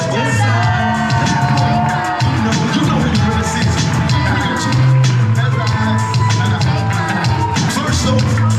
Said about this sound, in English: If everyone can get out of their seats, give a huge round of applause to Liz.